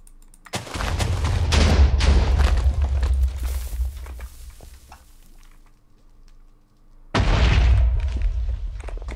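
Dynamite detonates in the Minecraft video game: a loud sustained blast rumbles for a few seconds, fades to quiet, then a second heavy explosion bursts out near the end.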